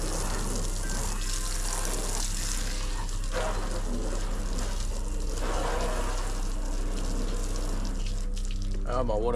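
Water gushing steadily from a hose while a ute is washed outdoors, a continuous loud hiss and splatter with no break, and someone talking over it.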